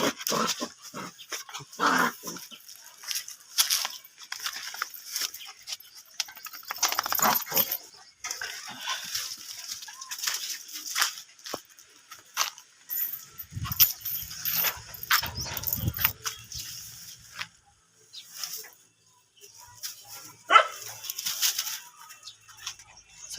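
Three pet dogs at home, one a pregnant dog, moving around indoors, giving scattered short growls, snuffles and soft scuffles close by, along with jangling tags and pattering paws over a fairly quiet room.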